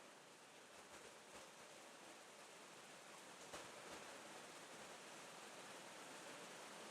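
Steady rain falls outside in a continuous, even hiss of broadband patter with no breaks, filling the background at a constant level throughout.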